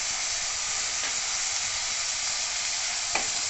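Peas, tomatoes and other vegetables sizzle and fry in a pan for green garlic rice, a steady close hiss with faint stirring scrapes throughout.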